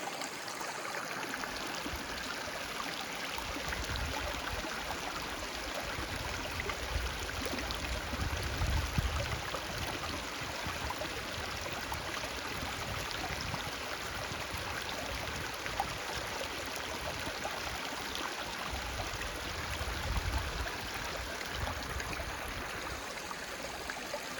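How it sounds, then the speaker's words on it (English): A small stream flows near a hiking trail, giving a close, steady wash of water with light gurgling texture, continuous and unaccompanied by voices. "Let's take a close-up if we can of the water."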